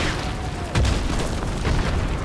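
Mortar fire explosion in Call of Duty: Modern Warfare Remastered, a deep booming blast over a dense, continuous rumble of battle noise, loud and sustained throughout.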